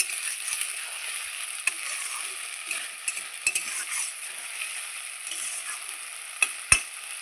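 Gobindobhog rice with spice paste stirred in a pan as it fries: steady soft scraping and light sizzle, with occasional sharp clicks of the spoon against the pan near the end, no talking.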